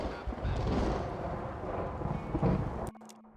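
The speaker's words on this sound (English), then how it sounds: "God, the storm is quite loud." A thunderstorm in the video game Red Dead Redemption rumbles as deep, rolling thunder with low booms swelling and fading, then cuts off abruptly near the end.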